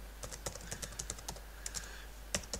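Light, quick keystrokes tap on a computer keyboard in a quiet room, irregular clicks coming in short bursts with a couple of sharper presses, close and fairly soft, no voices.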